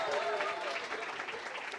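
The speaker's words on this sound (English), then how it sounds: "one more round of applause for the Black Panther, y'all" An audience of students applauds the Black Panther at a school event, steady close clapping spread evenly throughout with no break.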